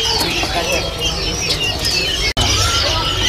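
Cucak koreng songbird calling among other caged birds at a bird market stall, with a busy mix of chirps and coos over loud crowd noise and nearby chatter.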